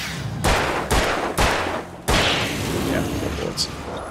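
Gunfire in Alan Wake: four sharp, loud shots at roughly half-second intervals, each leaving a short rumbling tail, followed by a quieter stretch.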